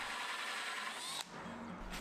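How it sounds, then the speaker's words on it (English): A hole saw bores through a campervan ceiling board with a loud, steady grinding whine that cuts off abruptly near the middle, then a quieter mechanical hum carries on alone. "then drilled the holes using a hole saw"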